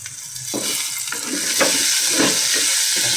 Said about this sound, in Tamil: இப்போ வெங்காயம் நல்லா வதக்கிட்டு தக்காளியை போட்டுக்கலாம்.